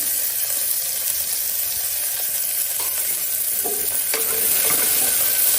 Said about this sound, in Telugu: ఆయిల్ వేడెక్కిన తర్వాత అందులో సన్నగా తరిగిన ఉల్లిపాయలు,